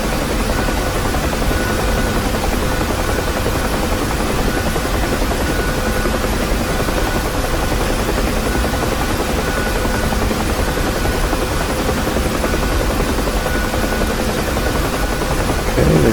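Loud, steady rotor thump and turbine whine from a UH-1 Huey helicopter in the DCS flight simulator, continuous and close throughout with no talk.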